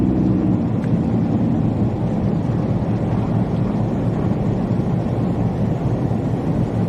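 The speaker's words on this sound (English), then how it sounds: "Listen to that wind and the power lines." Steady, roaring wind in Cleveland during lake effect snow with heavy flakes, blowing through power lines in a constant broadband rush that never lets up, no voices.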